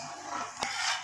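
A spoon scrapes and stirs a thick dhoda halwa mixture in a metal pot, a soft continuous scraping with one sharper clink, quiet and close.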